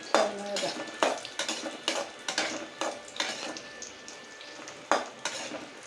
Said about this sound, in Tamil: காஞ்ச மிளகா போட்டு நல்லா வறுத்துக்கணும்.